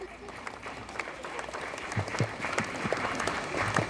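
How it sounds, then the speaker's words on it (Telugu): An audience at a school gathering claps in scattered, uneven applause at moderate distance, mixed with murmuring and a voice speaking. "మీరందరు చప్పట్లు కొట్టచ్చు"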